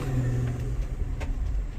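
Engine of a 2020 Ford vehicle revving at wide open throttle, a steady loud low rumble that holds through the short stretch with faint rises, heard close and without voices.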